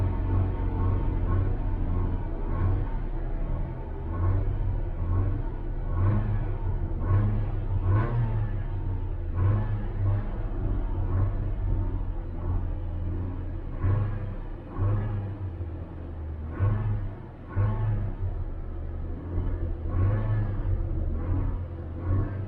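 A 1985 Camaro IROC-Z engine runs close by with a deep, throbbing rumble, repeatedly rising and falling as the throttle is blipped in uneven revs over a steady idle.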